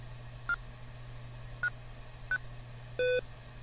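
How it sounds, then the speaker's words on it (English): A computer in modded Minecraft's OpenComputers mod beeps during boot: three short evenly spaced electronic beeps followed by a longer, lower tone, each clean and distinct over a quiet low hum. "you can hear in the background it's beeping."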